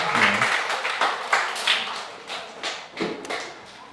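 A crowd of students at a Buddhist temple term-closing service claps together in a fairly steady burst of applause, with a few louder claps standing out and a brief voice near the start.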